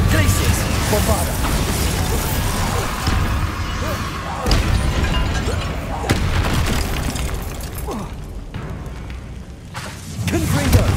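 Booming blasts of the explosive Bombarda spell in the Hogwarts Legacy video game, fighting Inferi, with heavy impacts around 4.5 and 6 seconds amid dense battle noise, a voice speaking over the action.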